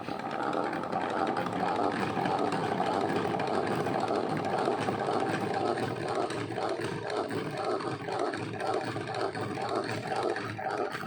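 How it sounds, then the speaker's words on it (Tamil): Hand-cranked honey extractor spinning honeycomb frames, a continuous loud rattling whir with a steady mechanical churn, close by and uninterrupted, no talking. "இப்படி சுற்றும் போது பார்த்திங்கன்னா இப்படி தேன் கலண்டு வெளியில் வர்ற மாதிரி போட்டுருக்கோம்"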